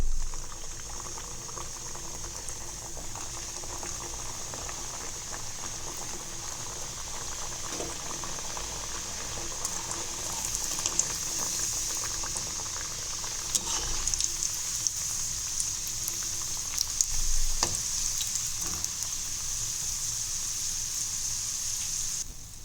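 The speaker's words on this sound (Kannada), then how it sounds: "ಈ ಥರ ಗೋಲ್ಡನ್ ಕಲರ್ ಬರೋವರೆಗೂ ಎಣ್ಣೆಲಿ ಫ್ರೈ ಮಾಡ್ಕೊಳ್ಬೇಕು" Badam puri sizzle and bubble steadily in hot oil, a continuous close frying hiss lasting throughout with a few faint clinks, and no talking.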